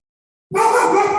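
A pet dog at home barks suddenly after a stretch of silence, a single loud, close yelp-like bark that breaks off abruptly.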